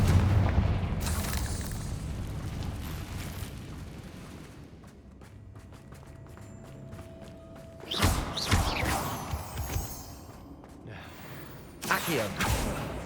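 Fire spell blasts in Hogwarts Legacy, with heavy booming explosions bursting out at intervals amid rumbling combat noise, a voice calling out between the blasts.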